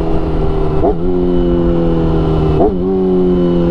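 A Yamaha R6 track bike on slick tyres, ridden on the street, with a loud, close engine drone broken twice by quick rev blips as it downshifts, then settling back into a steady roar.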